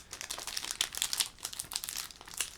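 A Pokémon booster pack wrapper is torn open, giving a quiet, close run of crisp crinkling and rustling of foil packaging for a couple of seconds.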